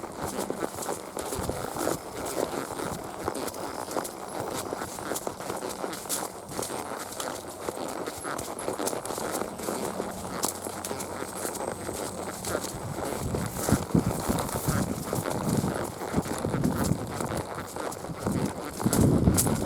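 Rebo, a 13-year-old spotted saddle gelding, walks outdoors with steady, rhythmic hoof clops carried over a constant windy background, with no talking.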